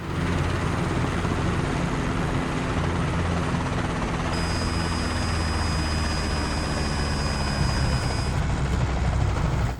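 A Robinson R22 helicopter in Microsoft Flight Simulator sets down on its skids after an autorotation emergency. A steady, loud rotor and engine drone runs throughout, and a thin high tone comes in partway through.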